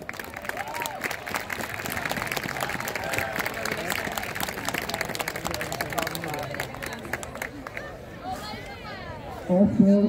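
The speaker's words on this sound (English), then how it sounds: "Give them a hand." Parade festival audience applauds the festival judges, with steady broadband clapping and crowd noise filling the scene, and voices and cheering rising near the end.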